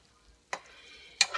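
A spatula scrapes and stirs ground beef and potatoes seasoned with chili powder in a pan, two quick scraping strokes over a faint background with no talking.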